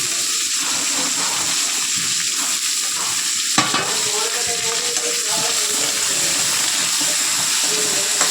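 Green peppercorns sauté in a pan with a steady sizzle and scraping stirs, one sharp clank of a utensil midway, while a voice talks faintly over the cooking.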